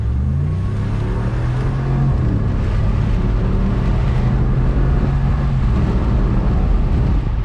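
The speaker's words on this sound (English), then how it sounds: "I'm gonna go ahead and stomp on it for you guys" A 2019 Ram 1500 Laramie Sport pickup's engine roars steadily under hard acceleration in traffic, a deep rumbling drone that rises and holds loud throughout, with no voices.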